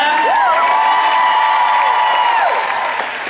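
Conference crowd at an eWomen 2018 event cheering and whooping to welcome Ted Cunningham on stage, loud and sustained with shrill whistles and shouts over a dense roar of applause.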